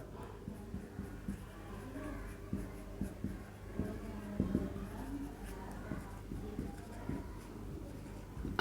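Pen or marker strokes on a writing surface produce soft, irregular scratching and tapping throughout, close and quiet, with no speech.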